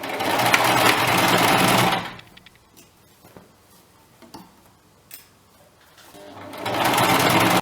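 A sewing machine runs in two loud continuous bursts while stitching a one-centimetre seam along the side of elastic-waist trousers, with quiet handling clicks and taps between the runs.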